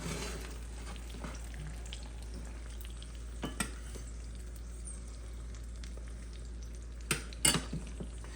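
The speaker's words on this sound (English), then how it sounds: "We're now going to cook the potatoes until they're golden brown like this." Sliced potatoes fry in butter in a pan for pomme Anna. A faint, steady sizzle runs throughout, with a few soft clinks of a utensil against the pan, quiet and close, with no talking.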